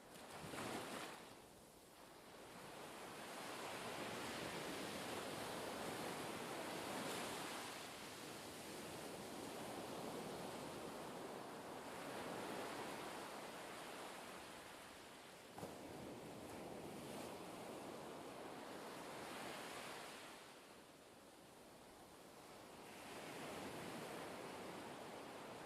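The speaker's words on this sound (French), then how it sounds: "calquer votre respiration sur les mouvements et le rythme de ces vagues" Ocean waves surging and receding on a shore in slow, steady swells, a broad continuous wash of surf rising and falling several times with no voices.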